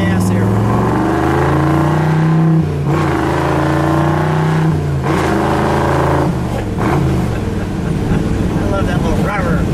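A 1962 Chevrolet Bel Air bubble top with a 409 engine revs hard and close, with rising and falling throttle blips over a deep, loud growling idle.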